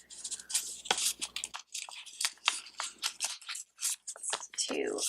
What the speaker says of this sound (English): Should really get my bigger scissors so I can actually cut straight.